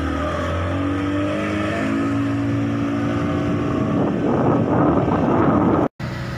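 Fishing boat engine running steadily at sea on the Indian Ocean, a continuous loud drone with rumbling low harmonics and wind buffeting, briefly cutting out near the end.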